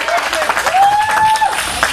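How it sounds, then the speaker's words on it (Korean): Applause from the crowd at a Liberty Korea Party national convention fills the hall, a steady wash of clapping with a sustained tone and voices over it. "뜨거운 박수 보내주시기 바랍니다"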